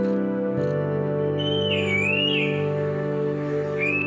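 African grey parrots in zoo cages give sliding, whistle-like calls over a steady droning background hum, several rising and falling tones spaced across a few seconds.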